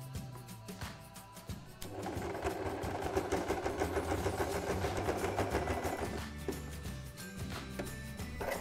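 A sewing machine stitches close to the edge of a baby travel changing mat, a quiet, rhythmic motor hum that picks up after a soft start and continues steadily.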